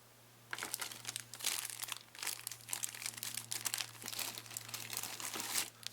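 Packaging for a Focusrite Scarlett 2i2 3rd Gen studio bundle crinkles and rustles in busy, continuous bursts close to the mic for several seconds over a steady low hum, with no talking.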